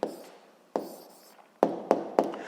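Pen strokes on paper as an answer is written down in a physics lesson, five short scratchy taps at uneven intervals, close and fairly quiet, with no talk.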